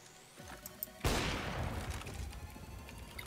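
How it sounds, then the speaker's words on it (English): A grenade blast in the CS:GO video game erupts after a second of quiet, a loud broadband explosion with a lingering rumbling tail. "Stop with the grenades."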